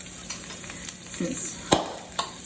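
Butter melts in a hot pan while short rib pot pie is being made, giving a faint, soft sizzle with a few light clinks and stirring scrapes.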